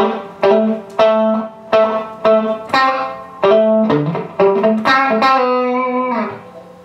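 Electric guitar played through a Benjamins delay pedal set to a very short delay time, picked notes and chords each followed by a quick tight repeat that thickens the tone, loud and close with no speech.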